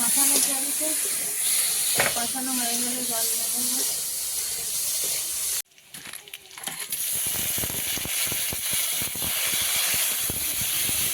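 Crab fries in hot oil with chopped onion and dry chilli, a dense steady hiss and crackle that drops out briefly midway and then returns, with a voice talking over the start.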